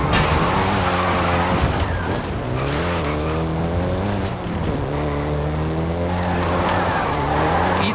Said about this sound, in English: including the Golf GTI you're driving right now